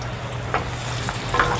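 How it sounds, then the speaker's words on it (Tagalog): Chopped onion hits a hot frying pan and sizzles in a steady, close hiss for under two seconds, with light clinks of a ladle stirring; nobody speaks. "lagay natin ang sibuyas na"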